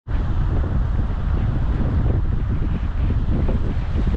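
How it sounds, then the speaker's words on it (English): Strong, steady wind buffets the microphone on the Lambert's Bay coast of South Africa's West Coast, a loud continuous roar with deep low rumble running unbroken from start to finish. "the wind is of course very strong in Lambertsbaai per occasion as well"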